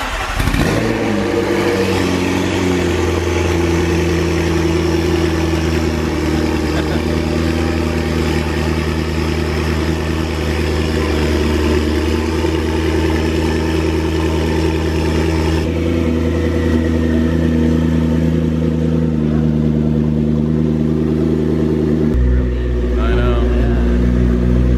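A turbocharged McLaren's engine holds a steady, loud drone throughout, with strong low harmonics and a deeper rev swell near the end, while people talk alongside it.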